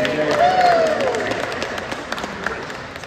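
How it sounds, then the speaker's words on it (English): Audience applause at a BC Conservative campaign launch in Surrey, scattered claps from a room of people mixed with a voice speaking and a brief vocal whoop, moderately loud and continuous. "Can I hear a round of applause for Judy, please?"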